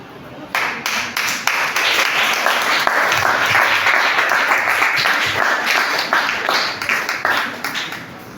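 Sustained crowd applause from a church congregation gathered for testimonies, dense clapping that swells in after a moment and carries steadily, with a few sharp individual claps standing out near the end.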